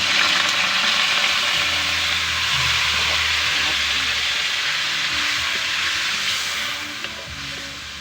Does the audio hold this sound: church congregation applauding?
no